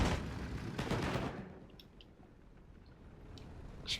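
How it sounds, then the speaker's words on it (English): A D.520 fighter strafes in the wartime strategy game Storm in the West '44, opening with a loud burst of rapid gunfire that fades into a quieter hiss with faint clicks, ending with one more short report. "D520 trying to strafe."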